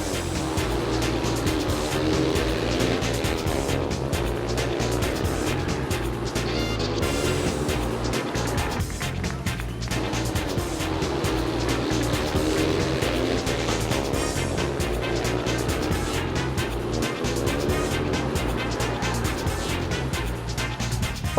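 Speedway motorcycle engines roar continuously at high revs as bikes race past at Sheffield Speedway, a loud, sustained whine rising and falling with each lap, no talking.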